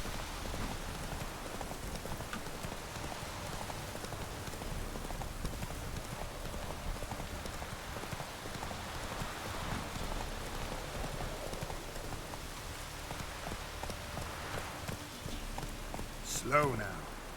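Roach the horse's hoofbeats in The Witcher 3, a steady, faint clip-clop of walking hooves under a wash of rain, with a voice speaking over it and a sharp louder hit near the end.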